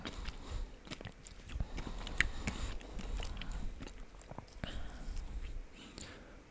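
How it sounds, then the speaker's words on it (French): A chocolate with caramel shards crunches between the teeth in close, quiet bites, with brittle cracks and steady chewing mixed with soft, faint whispering. "Croque sous la dent."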